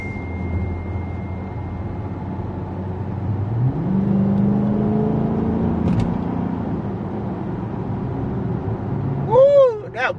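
Interior of a Dodge Charger 392 Scat Pack Widebody accelerating, a low droning exhaust and engine rumble that swells in the middle, with a voice exclaiming near the end.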